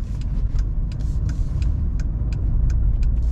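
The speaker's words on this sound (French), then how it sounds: "je vais faire sur l'autoroute un essai avec la voiture" A car cruises at speed on a German autobahn, heard from inside as a constant low road and engine rumble with recurring faint ticks and clicks over the steady drone, no one speaking.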